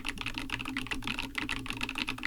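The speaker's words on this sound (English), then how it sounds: "These are fairly noisy tactile switches on an EpoMaker TH80 Pro keyboard." Fairly noisy tactile switches on an EpoMaker TH80 Pro keyboard clack in a fast, steady typing rhythm, close and moderately quiet, alone with no talk.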